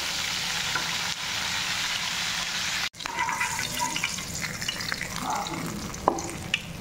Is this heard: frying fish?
yes